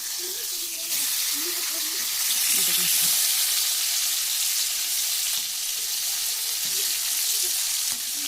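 Fish belly and onion frying in a pan, a steady loud sizzle and hiss running throughout, with a voice talking intermittently beneath it.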